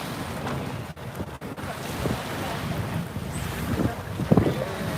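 Tour boat cruising a river through Gothenburg, Sweden, pushing through small waves, with steady rushing water, splashing and heavy wind buffeting the microphone throughout, a louder splash near the end.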